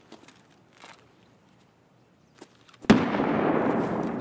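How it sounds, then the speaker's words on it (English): A grenade goes off in the online shooter game Escape from Tarkov: after a quiet stretch with faint scuffs, one sudden loud blast lands near the end and trails into a rumbling, sustained roar. "Grenade just went off there."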